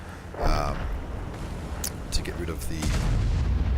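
Artillery fire in the tank game World of Tanks during a Tier 10 medium tank match, a distant boom followed by a few sharp cracks, heard under low battle rumble.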